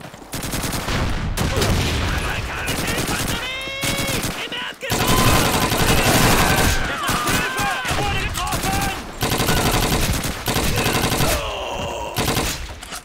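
Video game gunfire in Call of Duty 2, with dense bursts of machine-gun fire and rifle shots in a loud battle, with brief gaps and voices talking among the shots.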